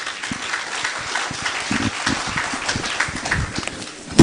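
Applause rises from the audience at a book launch, a steady, fairly close clatter of many hands with uneven individual claps, swelling slightly louder at the very end.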